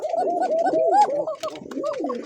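A male pigeon coos close by in a loud, continuous series of throaty rolling calls.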